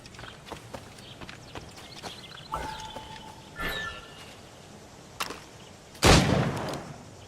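Gunshots in Assassin's Creed Rogue, several sharp reports spaced irregularly over hoofbeat-like clatter, with the loudest, closest blast near the end.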